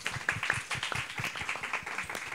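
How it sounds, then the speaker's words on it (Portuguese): An audience gives a brief round of applause at a corporate talk while a diversity manager is called up to the stage; dense, steady clapping from many hands fills the short stretch without any talk over it. "Palmas."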